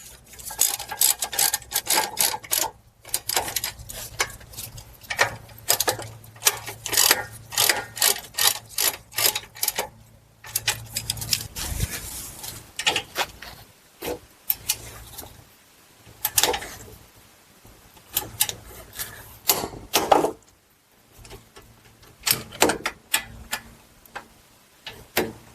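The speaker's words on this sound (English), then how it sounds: "Then we'll tighten up both of these 21 mil bolts to 129 foot-pounds." A ratchet tightening 21 mm brake bracket bolts on a GMC Acadia, rapid close clicking in repeated bursts with brief pauses, continuing steadily throughout.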